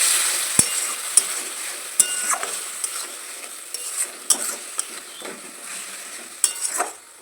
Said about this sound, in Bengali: এবার ভালোভাবে কষাতে থাকবো যতক্ষণ না এর কাঁচা